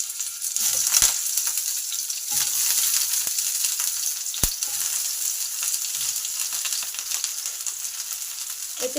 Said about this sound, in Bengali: তেল গরম হলে ফুলকপিগুলো ভেজে নেব।